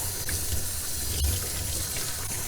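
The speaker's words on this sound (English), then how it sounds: "I'm lucky to have a faucet here where I can just stick her under the water and let her rinse" Tap water running steadily from a faucet over a six-week-old long-haired Shih Tzu puppy being rinsed during grooming, a continuous close splashing rush with no talk.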